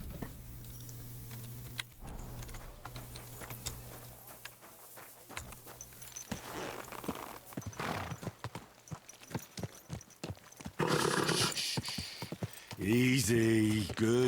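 Rhythmic hoof clip-clops of a walking horse in Kingdom Come: Deliverance II, mixed with game sound effects and music, growing louder and busier toward the end.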